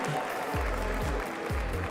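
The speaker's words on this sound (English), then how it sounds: "maybe a little noise from the crowd will help wake you up" Crowd applause at a Pokémon Worlds Championships watch party, a dense continuous wash of clapping with low thumping bursts underneath, steady and loud throughout.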